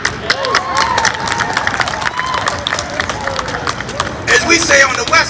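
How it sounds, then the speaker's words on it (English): An audience at a Juneteenth event in Chicago claps and cheers, a dense patter of hands over crowd murmur, rising again toward the end. "No, you can clap."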